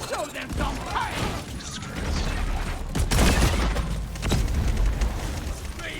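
Gunfire from a deployable turret in the sci-fi mining shooter game Deep Rock Galactic, dense sustained bursts with heavy booming impacts and explosions, loud and continuous throughout amid mechanical clatter.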